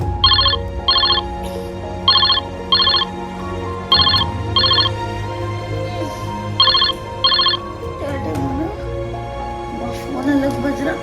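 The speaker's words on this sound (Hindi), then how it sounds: "फोन अलग बज रहा" A phone rings in repeated pairs of bright electronic trills, evenly spaced, loud and near, over a low indoor hum with faint movement.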